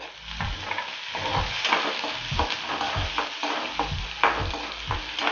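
Onions frying in oil for pitla, a besan dish, sizzle steadily up close while a spoon scrapes the pan in a regular rhythm of repeated strokes.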